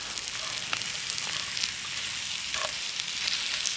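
Philly cheesesteak filling is mixed in a pan outdoors at a bushcraft camp, making a steady sizzle with scattered crackles and light scraping stirs, close, with no talking.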